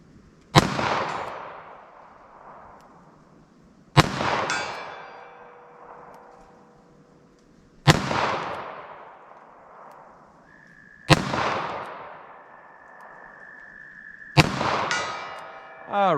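Five loud .38 Special wadcutter gunshots fired at a target, spaced about four seconds apart, each a sharp crack followed by a long ringing decay, with no talk between shots.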